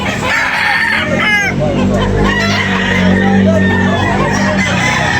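Chickens and roosters at a poultry market, with loud crowing and clucking layered over steady crowd murmur and a constant background din throughout.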